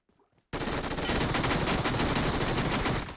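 Sustained automatic gunfire in PUBG Mobile bursts in after a half-second lull and rattles on loud and dense to the end.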